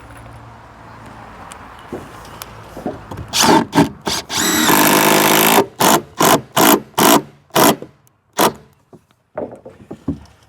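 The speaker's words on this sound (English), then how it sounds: "we're going to attach that back with some screws just for now" A power drill drives screws into wood in a series of short, loud whirring bursts, including one longer run, with quiet handling noises between them and no talk.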